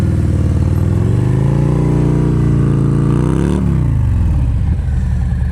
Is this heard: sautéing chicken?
no